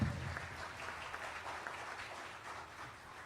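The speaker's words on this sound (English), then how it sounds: "Let's give a round of applause" An audience in a church applauds after a symphonic concert with a violinist-conductor, a soft, steady patter of clapping that stays fairly distant and slowly thins out.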